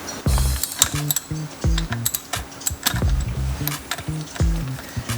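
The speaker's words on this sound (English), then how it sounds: "let's get these little bolts off and see what's behind there." Ratcheting wrench removing small hub bolts on a 60 Series Land Cruiser during a brake upgrade, a close, loud run of rapid mechanical clicks in short bursts with brief pauses between strokes.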